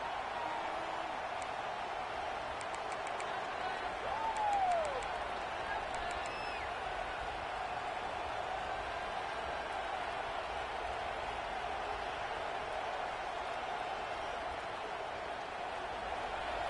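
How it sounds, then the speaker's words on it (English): Steady, broad roar of a large stadium crowd at a Georgia vs Alabama football game, constant and distant-sounding, with faint whistles and a brief swell of cheering partway through. "Listen to the crowd energy here in the early going."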